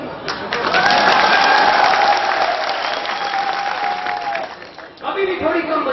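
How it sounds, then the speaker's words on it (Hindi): Applause from a crowd at a political rally in Manasa, clapping swelling early and holding steady for several seconds before a brief break, with a speaker's voice over the top and cutting back in near the end. "मेरे मीडिया के भाई सोच रहे हैं कि तालियां कम क्यों बजी।"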